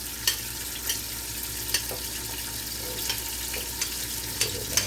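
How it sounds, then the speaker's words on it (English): Garlic and onions fry in a pot of beef fat for stewed beef, a steady close sizzle with a few sharp scraping clicks of a stirring utensil at intervals. "So put a little bit of garlic back in there because you never want to add your garlic early because it will burn"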